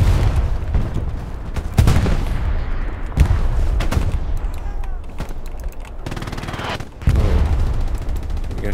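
Gunfire in the World War II shooter Hell Let Loose, a loud string of sharp shots and bursts with rumbling battlefield noise between them.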